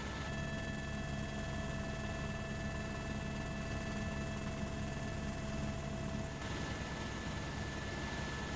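A helicopter carrying a HeliTAWS terrain-warning system during takeoff fills the cabin with a loud, steady drone and whining tonal hum from the engine and rotors, unbroken throughout with no voices.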